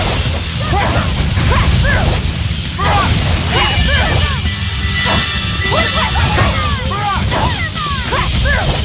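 Dogs in the Tales of Berseria video game bark and yip repeatedly in a chaotic battle, sharp overlapping barks amid crashes and a loud, busy background, with voices shouting.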